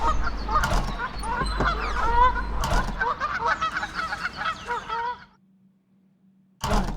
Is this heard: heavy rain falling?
no